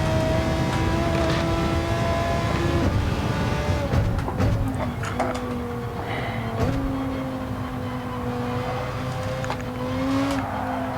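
Race car engine in Gran Turismo 7 on the Spa circuit, a steady sustained whine with shifting pitch as it drives through corners, continuous and fairly loud, with some tire and contact noise mixed in.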